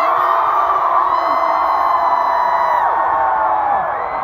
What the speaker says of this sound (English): Okay, Vietnam, I want to hear you scream on three